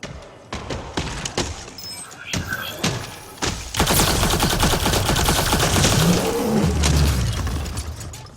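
Gunfire from a weapon in the video game Mass Effect Andromeda, starting as scattered sharp shots and building into a dense, sustained burst of rapid fire with thuds and mechanical clatter, loud and close.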